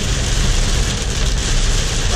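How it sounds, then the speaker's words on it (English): Steady rain from a passing storm pours down in a dense, even hiss that fills the whole stretch, loud and close with no pauses. "Another storm rolling through."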